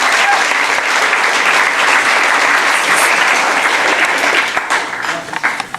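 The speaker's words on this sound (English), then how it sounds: "I would like you to give yourselves a round of applause." An audience at a leadership awards ceremony applauds in a loud, sustained burst of clapping that starts full and thins to scattered claps near the end.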